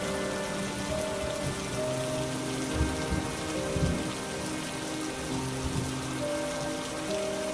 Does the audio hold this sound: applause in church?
no